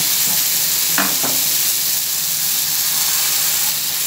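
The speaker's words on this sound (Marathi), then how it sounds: "तर आपण डोशाचं बॅटर घालूया." Sponge dosa batter poured onto a hot pan over a medium flame, with a loud, steady sizzle and hiss throughout and a couple of brief knocks early on.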